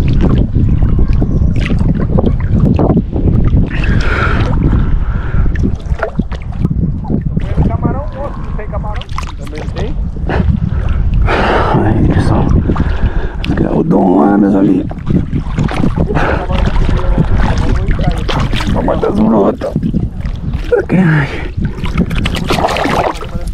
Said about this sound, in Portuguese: Ventando demais.